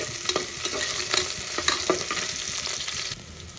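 Onions sautéed in a pan and stirred for a pulav, a dense hiss of frying with scraping strokes of a spoon, fairly close and steady.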